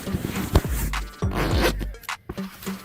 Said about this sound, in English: this one's got zippers